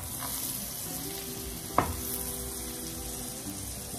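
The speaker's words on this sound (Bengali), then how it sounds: "পাতিল গরম হয়ে গেছে। এখন আমি বাটার গুলে দিয়ে দিচ্ছি" Butter melting in a hot pot on a stove gives a steady close sizzle, broken once by a sharp clank near the middle.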